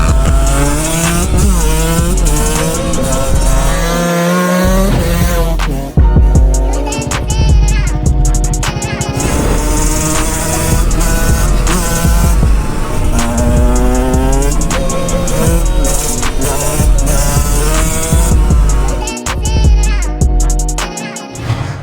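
Two 125cc motorcycles, a 2015 Husqvarna TE125 two-stroke with an aftermarket exhaust and a four-stroke, rev hard again and again with loud, rising and falling engine whines, close by.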